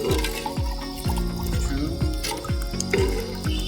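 Water poured into a pot of rice for veg biryani gives a close, loud, rhythmic glugging, with about eight regular gulps in under four seconds over a continuous splash.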